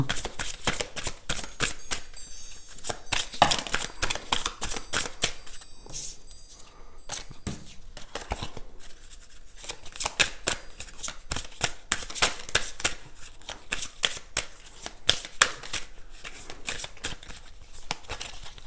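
Playing cards being shuffled close by, a dense run of crisp riffling flutters and soft slaps repeating steadily for the whole stretch, with no voices.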